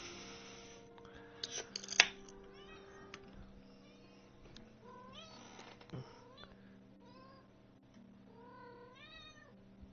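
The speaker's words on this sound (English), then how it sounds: "that cat's gonna drive me nuts." Cat meowing in the video game Alchemy Factory, several separate rising and falling meows spread across the stretch, moderately loud over a quiet background hum, with occasional small clicks.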